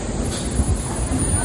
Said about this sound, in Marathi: चर्चगेट ट्रेन आली आहे